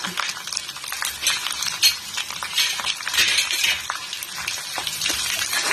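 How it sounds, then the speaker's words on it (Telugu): Tempering with a pinch of asafoetida fries in oil for tomato dal, a close, crackling sizzle mixed with stirring scrapes and light metallic clinks of a spoon against the pan, with no voices. "మన తాలింపు వేగిపోయింది"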